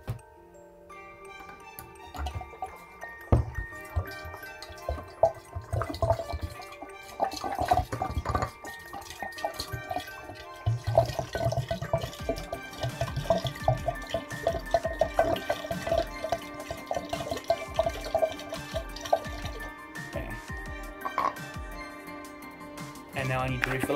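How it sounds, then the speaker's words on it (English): Water from a 1 liter bottle is poured into a container punched with holes, trickling and dripping unevenly for a long stretch, fairly close, with faint ticking and background noise throughout. "pour in my water."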